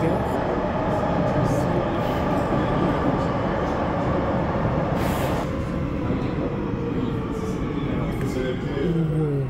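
A Paris RER train, an MI 09-style Z58000 set, rolls into Neuilly station with loud continuous rumble and hiss, a brief high screech midway, while a person talks over it.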